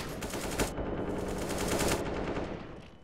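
Automatic gunfire in Counter-Strike, a rapid string of close shots in two bursts, fairly loud and then tapering off at the end, with no talking.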